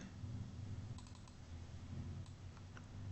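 Quiet typing on a computer keyboard while entering Excel percentile formulas: soft, scattered key clicks at a low level, with a few clustered taps and no talk.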